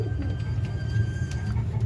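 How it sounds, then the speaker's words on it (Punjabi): Pigeons at a large pigeon market in Lahore coo softly in repeated low throaty rolls, close by, over faint background bustle. "ਮਾਸ਼ਾਅੱਲਾ ਹੈਲਦੀ ਐਕਟਿਵ ਕਬੂਤਰ"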